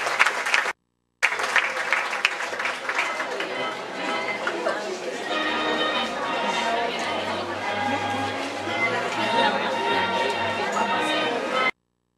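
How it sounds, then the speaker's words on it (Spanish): Applause at a ninth-grade graduation in Cantón El Trillo, continuous clapping from the audience mixed with chatter and voices, broken by a short gap and ending abruptly. "¿Qué pasó con los aplausos?"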